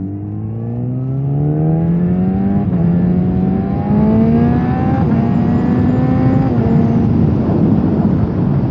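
Yamaha FZ1 motorcycle engine pulling away, revs climbing through the gears in rising harmonic sweeps, loud and close, with steady wind rush throughout.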